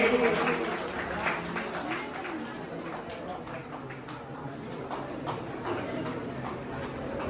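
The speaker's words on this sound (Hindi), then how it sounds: "और तालियां बजती रहना चाहिए" A crowd claps steadily throughout at a school Republic Day celebration, a dense, continuous patter of applause with some voices mixed in underneath.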